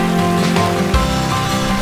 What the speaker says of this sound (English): it's finally, after 3 months of drought, raining on the wildlands